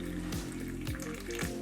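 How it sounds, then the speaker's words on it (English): Hot water poured into a cup of turmeric tea, a short continuous splashing pour with liquid gurgling, close and moderately quiet. "I'm gonna pour some hot water in it"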